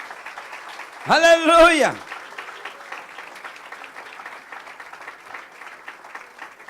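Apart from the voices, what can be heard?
congregation applauding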